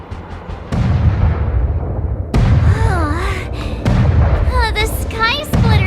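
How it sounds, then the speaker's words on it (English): In Honkai Star Rail, Sky Splitter's gun salute fires several loud, booming blasts spaced a second or two apart, each followed by a rumbling decay, while voices talk between and over them. "The Sky Splitter's gun salute is really loud."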